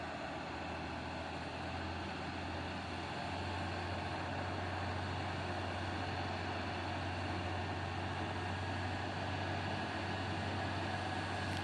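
Two orange Fuso trucks idle at the foot of the Bukit Kodok climb, a steady low diesel rumble holding constant and fairly distant, with no voices.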